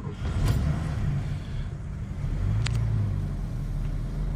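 A 1963 Mercedes 220 SE Coupé with a 2.2-litre engine catches and settles into a steady, low idle rumble, heard close by with a couple of faint clicks and no talking.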